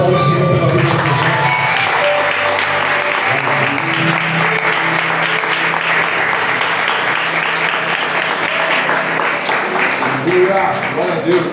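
A church congregation applauds steadily and loudly at a Sunday gathering, the clapping dense and continuous throughout with voices mixed in beneath it.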